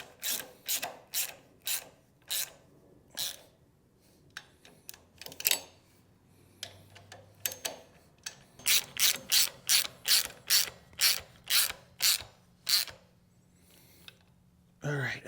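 Ratchet wrench tightening axle retaining nuts on a car's rear brakes, sharp close clicking in quick bursts of strokes separated by short pauses, with faint mumbling between.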